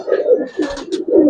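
Giribaz pigeons coo in a loft in a few close, throaty, rolling bursts, with a brief rustle between the calls.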